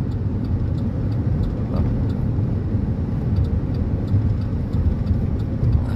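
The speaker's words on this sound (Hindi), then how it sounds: "ये न्यूट्रल गाड़ी है और वादी जिन है" A car coasts in neutral at about 120 along the road through Wadi Jinn near Medina, heard from inside as a steady, loud low rumble of road and engine noise without talking.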